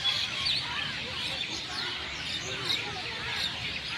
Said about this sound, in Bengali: এত পাখি, এত পাখি, প্রচুর আওয়াজ শুনতে পেয়েছো তোমরা?